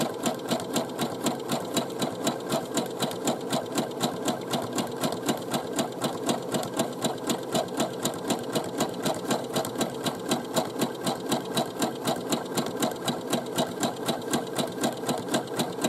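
Home sewing machine zigzag-stitching around a trouser fly at a steady, moderate speed, a close, continuous rapid needle chatter with an even mechanical rhythm and no talking.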